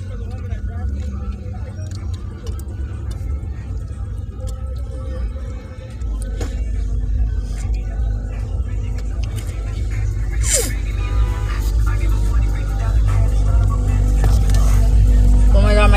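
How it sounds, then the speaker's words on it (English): Car passing by, a low rumbling swell that grows louder and nearer toward the end, under ongoing casual talk. "Car just passed by."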